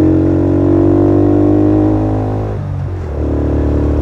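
A Honda CB110 motorcycle labors up an incline, its engine droning in a steady harmonic hum close by, then briefly dipping and shifting pitch before settling back into a strained, lower pull.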